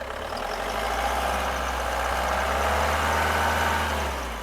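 A 2012 Mahindra Xylo's engine running close by is heard as a steady low rumble that swells slightly partway through as it is revved, then eases back.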